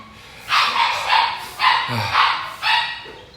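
A dog barks and yips in several sharp bursts close by indoors, a lively series of about five or six barks with a whimpering edge.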